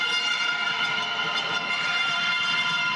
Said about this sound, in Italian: ora sentite anche i fischi da parte del Palamellano